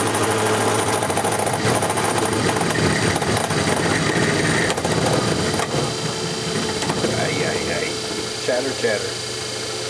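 A lathe or machine tool cuts with a steady, harsh, buzzing chatter while a Craftsman punch is refinished. The loud grinding and motor hum run continuously for the whole stretch.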